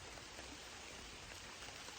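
Steady rain falling over an outdoor homestead property during a solo camping trip, a dense, even hiss with no pauses, moderately soft and continuous throughout.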